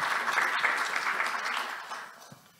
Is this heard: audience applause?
yes